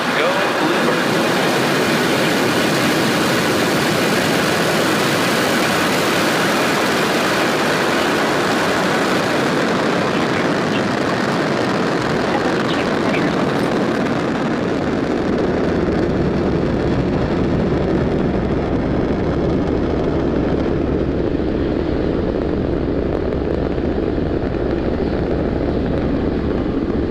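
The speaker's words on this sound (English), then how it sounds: "Ignition and liftoff. Go Falcon and go BlueBird." A SpaceX Falcon 9 rocket lifting off from Space Launch Complex 40 at Cape Canaveral, a loud, continuous broadband roar that builds and deepens into a heavy low rumble as the vehicle climbs away.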